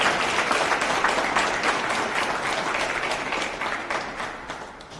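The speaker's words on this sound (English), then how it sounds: "Give each other a round of applause." An audience applauds for workers at a public event with a government official, a dense, steady wash of clapping lasting about five seconds that fades slightly toward the end, with no voices over it.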